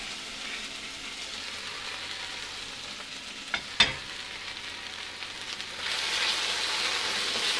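Lotus root stir-fries in a hot pan, a steady close sizzle with a couple of sharp tossing clanks midway, then the frying hiss grows brighter and louder toward the end; no talking.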